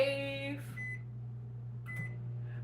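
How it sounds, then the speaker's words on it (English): A microwave oven heating halved acorn squash hums with a steady low drone, opening with a short electronic beep tone and door clatter, then a couple of faint high beeps near the end, close and moderately quiet. "Gonna put that in the microwave."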